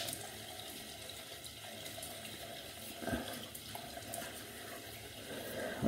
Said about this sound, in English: Okay, so I'm gonna wet my face and we can start this up.